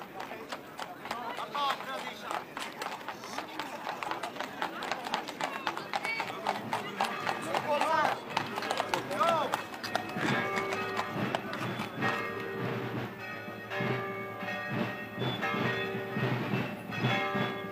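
Many horses' hooves clip-clop on pavement during a Pentecost procession in Gerpinnes, a dense, continuous clatter of irregular hoofbeats with a crowd murmuring around, and someone speaking over the scene.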